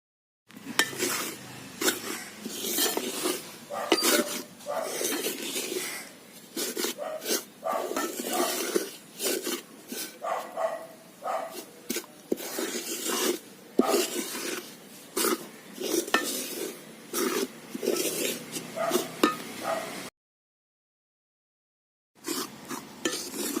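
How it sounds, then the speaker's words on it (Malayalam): Rice flour for sweet balls is stirred and roasted in a pan over an outdoor wood-fired stove, with a spoon scraping the pan in quick, repeated strokes close by, then a brief pause. "അവലോസുണ്ട ഉണ്ടാക്കാനുള്ള അരിപ്പൊടി പുറത്ത് വിറകടുപ്പിൽ വറക്കാൻ പോകുന്നു."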